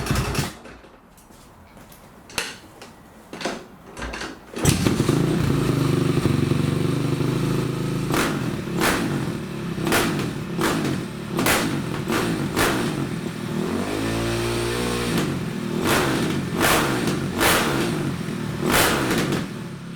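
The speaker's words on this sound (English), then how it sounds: "Turned the choke off and it idled a little low." A Honda CRF450 dirt bike with an uncleaned carburetor runs with the choke off, idling a little low. The engine rumbles steadily and up close, with a few sharp blips and mechanical clatter over the continuous drone.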